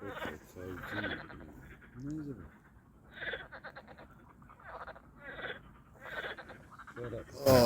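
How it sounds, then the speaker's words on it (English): Night frogs by a lake give repeated rhythmic croaking pulses at moderate volume, a steady sequence of bursts with a sharper louder sound at the very end. "The frogs are on a mission."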